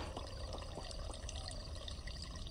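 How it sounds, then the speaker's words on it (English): Water fills a bucket from a well in the horror video game Pumpkin Panic, a steady continuous rushing pour held at even loudness throughout, with no talk over it. "Can I fill up my water bucket?"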